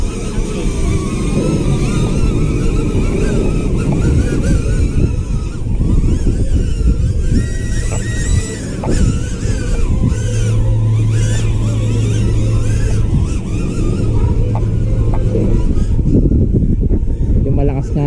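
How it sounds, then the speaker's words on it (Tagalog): Strong wind buffets the microphone during an outdoor DJI Neo 2 drone test flight in a loud, constant rumbling roar, with a person talking underneath. "Medyo malakas yung hangin"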